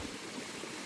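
A jungle stream in Darjeeling flows with a faint, steady wash of water, continuous and even across the brief moment.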